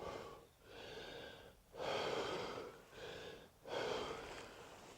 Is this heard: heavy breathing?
yes